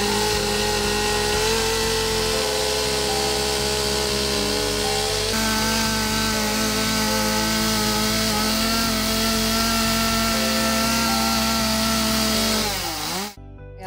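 Chainsaws and grinders carving wood sculptures in a castle courtyard during a woodcarving symposium, a loud continuous motor whine with shifting pitch and revving throughout, running alone until it cuts off near the end.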